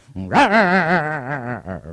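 A comedian imitates a dog with his voice, giving one loud, drawn-out bark that wavers into a howl, close and alone.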